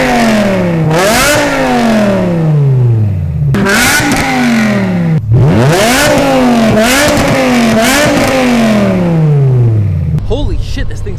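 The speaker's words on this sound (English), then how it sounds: "this thing sounds like an F1 car now" A BMW V10 engine revs hard through a custom F1-style exhaust with double X pipe and valves open, rising and falling in several loud, high-pitched sweeps with brief gaps between pulls, ending in a lower burble.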